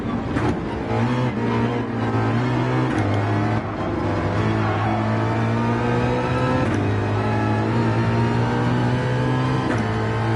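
Race car engine in a racing game at Road Atlanta, a Porsche 911, revving hard through repeated gear shifts, the pitch climbing and dropping at each change, loud and continuous with no talk.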